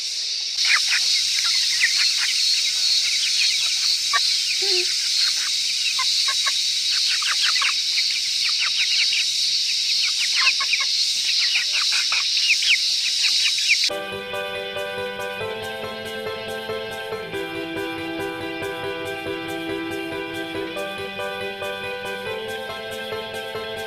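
Chickens cluck and chirp in a coop for about fourteen seconds, busy and fairly close, before the sound switches to steady tonal music.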